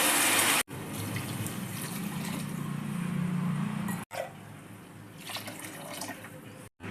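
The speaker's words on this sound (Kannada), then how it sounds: "ನಾನು ಎರಡೂವರೆ ಲೋಟ ನೀರು ಹಾಕ್ತಾ ಇದ್ದೀನಿ" Water pours steadily into a pressure cooker for matar pulao for several seconds, then a second, slightly quieter pour follows after a short break.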